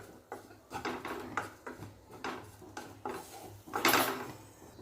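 Dry coconut roasting in a pan over low gas, with a spatula scraping and stirring in repeated rhythmic strokes, metallic scrapes and light clatter close up, one louder sweep near the end; no talking.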